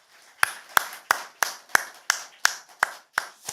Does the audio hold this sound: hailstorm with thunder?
no